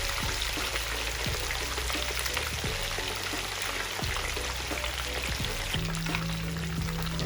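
Sea bass frying gently on low heat, a steady close sizzle of oil running throughout, with a few soft clicks and shifts of the fish in the pan.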